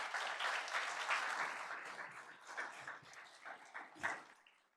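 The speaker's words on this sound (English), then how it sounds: "Can we have another round of applause for them" An audience at an afternoon society induction ceremony gives honorees a faint, distant round of applause, many hands clapping steadily before thinning out, with a few yelps or cheers near the end.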